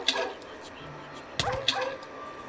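Wolves, the tamable dogs of the video game Minecraft, give short yips and whimpers over a low in-game background, with a sharp burst of action sound midway and a faint voice underneath.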